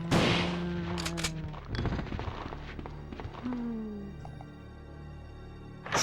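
Gunshots blasting zombies in a Resident Evil game on PlayStation, a few loud sharp reports with thudding impacts amid game noise and groaning tones, then quieter trailing action.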